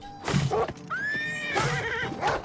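A horse in Oblivion Remastered lets out a loud, close whinny with rising and falling neighs, followed by snorting and a second shorter neigh.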